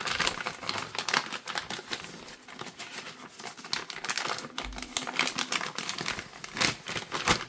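A plastic vacuum sealer bag being folded back by hand, with close, continuous crinkling and crackling of the stiff plastic in rapid irregular bursts.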